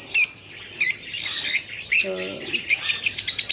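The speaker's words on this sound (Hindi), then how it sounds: "पिछले साल मैंने ये वाले तोते ख़रीदे थे" Pet cockatiel parrots chirp and squawk in bursts of sharp, close calls repeating through the moment, with a brief spoken word from a person partway through.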